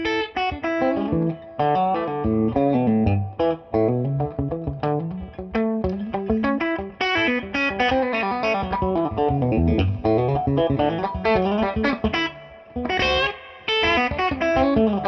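Electric guitar played through a Fryette Memphis 30 amp on its clean channel with reverb, set like an old Blackface Deluxe with EL tubes; a continuous run of picked notes and chords, full and close, no talking.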